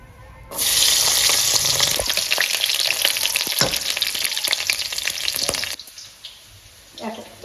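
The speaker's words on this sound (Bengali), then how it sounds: "শাকটা রান্না করার জন্য রসুনটা প্রথমে ভেজে নেব" Garlic frying in hot oil in a pan before greens go in, a loud close crackling sizzle that runs for several seconds, then cuts off abruptly, leaving faint clinks and quiet.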